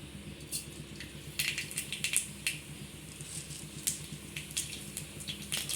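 Mustard seeds spluttering in hot oil in a pan while cooking beetroot poriyal, with scattered sharp pops and crackles over a steady low sizzle, close and moderately loud.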